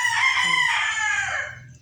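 A rooster crows once, loud and close, a drawn-out strained call that fades at the end.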